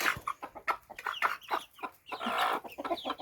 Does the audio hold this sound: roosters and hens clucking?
yes